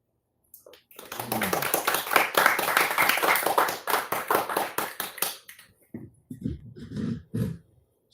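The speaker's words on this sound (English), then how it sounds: "Snap your fingers for Morris." An audience at a youth open mic night snapping their fingers after a poem, a dense crackle of many snaps that fades out, followed by a few scattered claps and throat clearing.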